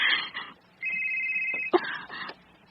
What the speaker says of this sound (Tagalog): Ang akong cellphone, kinsa mo kaning nanawag.